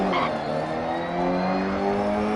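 A rally car in Dirt Rally races on a gravel stage, its engine droning loud and steady at high revs with a brief rasp of tyres near the start, and no talking over it.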